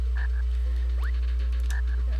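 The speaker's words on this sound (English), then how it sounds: "Frog." A frog croaks in The Flintstones on SNES, a few short chirpy croaks spaced apart over a low constant hum.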